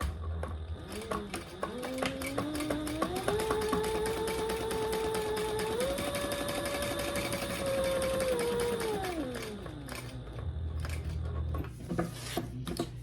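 A sewing machine runs in one continuous whirring stretch with black thread while back stitching a beginner bag, its motor pitch rising, holding, then winding down, close and steady with light clicks at start and end.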